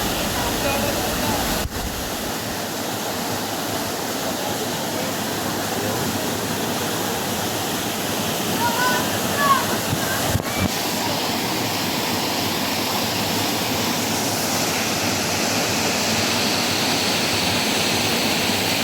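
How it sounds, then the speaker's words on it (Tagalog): Powerful rushing water roars steadily throughout, a broad continuous wash of Kilangin Falls in Majayjay, Laguna, with faint voices now and then. "nagmumula ang tubig na malakas"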